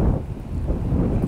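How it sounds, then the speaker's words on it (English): Gusts of wind buffet wireless microphones fitted with windscreens outdoors on a windy day, giving a steady, loud low rumble that swells and dips throughout. "And folks, it is a windy day."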